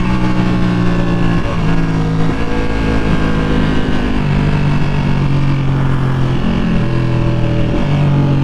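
A 2020 Ducati V2 engine drones loud and steady while riding, its pitch rising and stepping through smooth quick-shifted gear changes under strong wind rush.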